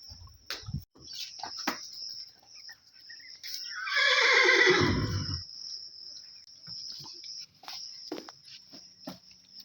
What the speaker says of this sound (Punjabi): ਮਜਨੂ ਬਾਹਰ ਬੰਨੇ ਆ ਆਪਣਾ ਵੱਡਾ ਵਛੇਰਾ